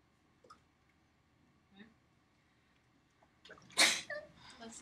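A single loud sneeze bursts out near the end of a quiet lecture-hall stretch, preceded by a few faint clicks and small rustling sounds.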